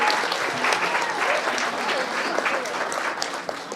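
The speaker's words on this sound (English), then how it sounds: "give a round of applause to all the servicemen and women who are with us here today" An audience at a public event applauds servicemen and women in uniform, steady loud clapping from a large crowd that continues throughout, with a voice faintly heard in the mix.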